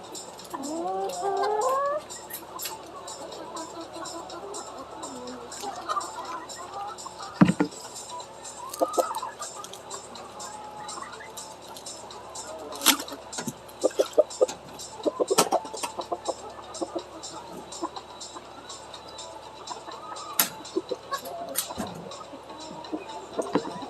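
Chickens cluck and murmur softly around a winter farm, with scattered faint clucks and ticking pecks over a low background and occasional louder knocks, all fairly distant and quiet with no one talking.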